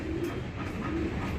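Pigeons coo in a loft, soft low hoots that repeat twice over a steady hum of background noise.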